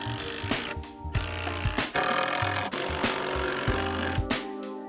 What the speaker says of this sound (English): I attached the curves to the bottom with the same lag screws I used on the fortress.